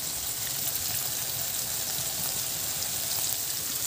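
Food sautéing in a pan gives a steady, dense sizzle and crackle that holds at an even level throughout, with no voices.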